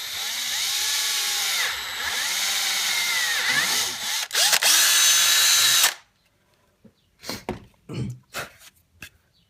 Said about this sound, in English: I'm just going to take a 1/4 inch drill bit and just kind of, well, just push it through